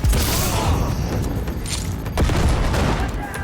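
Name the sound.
explosions in a video game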